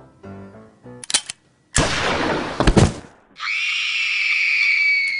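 A cartoonish burst of gunshot sound effects: a short double crack, then a loud, dense volley of rapid shots, followed by a sustained high, shrill tone.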